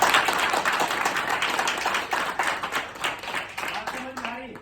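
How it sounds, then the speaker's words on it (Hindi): A seminar audience applauding heartily with dense, fast clapping that fills the room, close and steady before gradually thinning out, with a voice speaking near the end. "जोरदार ताली होना चाहिए।"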